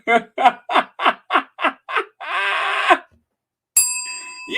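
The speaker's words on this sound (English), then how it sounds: "You get a bell for that." A bell sound effect rings in a quick series of seven bright dings, then a sustained ringing trill, followed by a short electronic tone.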